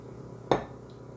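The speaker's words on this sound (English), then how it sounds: "we keep decanting it back and forth until we get all the baking soda out of the small cup" Cups clink once, sharply and close, as a baking soda mixture for liposomal vitamin C is decanted back and forth between them; otherwise only a low, quiet background hum.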